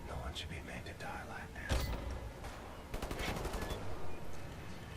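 Gunfire in the video game Wolfenstein: a few sharp bursts of shots, one strong crack near the start and a quicker cluster of rapid reports later, set against steady game background noise.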